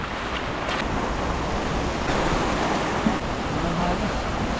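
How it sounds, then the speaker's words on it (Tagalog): Loud, continuous rushing of flood water at an old dam after heavy rain, a broad roaring wash with gusty wind-like noise, close by and unbroken. "Lumalakas din ang tubig."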